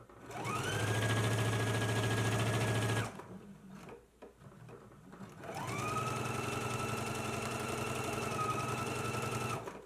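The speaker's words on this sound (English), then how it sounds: "now I'm gonna go ahead and stitch using a 5/8 inch seam allowance" A sewing machine stitches a jacket seam at a 5/8 inch seam allowance, running in two long, steady bursts close up, separated by a short pause.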